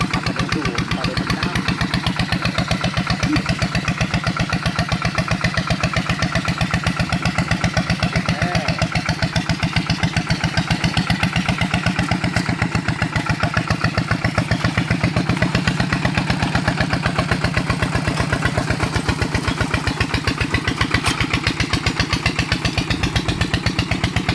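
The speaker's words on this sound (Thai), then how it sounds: "ขับรถคูบต้าคันเล็ก ก็ฟังเสียงแล้วน่าจะไม่ไหวไหว" A small Kubota farm vehicle engine runs steadily and continuously with a rhythmic chugging putter, close by and fairly loud, with no break throughout, at a rice paddy.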